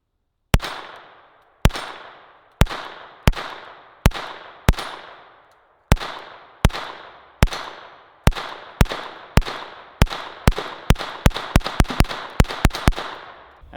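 A SIG P322 Competition .22LR pistol fires a long string of sharp, crisp shots, spaced about a second apart at first and then quickening into rapid fire, each crack trailing a short ringing decay.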